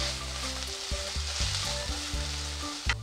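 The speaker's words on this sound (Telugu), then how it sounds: "ఆనియన్స్ ఇలా ఫ్రై అవుతున్నప్పుడే కొంచెం కరివేపాకు వేసుకుందాం" Onions with curry leaves and ginger-garlic paste sizzling in hot oil for a Telugu amaranth egg fry, with a steady close crackle and occasional stirring clinks, with a faint background tone.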